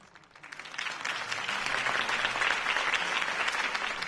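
Crowd applause swells after a campaign speech in Batman: The Telltale Series, rising within the first half second into dense, sustained clapping from a large audience that holds steady to the end.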